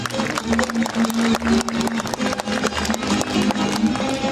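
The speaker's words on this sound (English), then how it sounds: "So a round of applause for our Queen of Queens." An audience at a House of the Philippines community event gives a round of applause for the crowned Queen of Queens, a dense, steady patter of clapping filling the room throughout.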